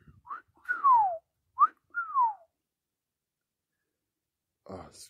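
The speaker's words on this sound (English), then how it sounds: "I'm not good at whistling." Someone whistles a few short, sliding notes in a quiet outdoor spot on the Freeman Trail loop of Blood Mountain, with clear pauses between phrases, followed by a brief voice at the very end.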